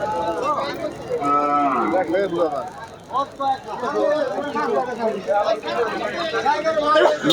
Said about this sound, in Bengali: আমরা দেখতে পাচ্ছি প্রবেশ করছে হাজার হাজার গরু